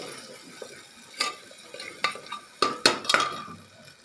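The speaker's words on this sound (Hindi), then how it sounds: "अभी जब तक भून नहीं जाएगा तब तक भूनेंगे।" Chickpea curry masala roasting in a pan, a spoon knocking and scraping against the metal in irregular sharp clacks over a soft low sizzle, fairly quiet and close, no voices.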